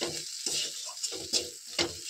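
A spice mix fries in a pan while being stirred, with quiet bursts of sizzling and scraping coming in uneven pulses about every half second.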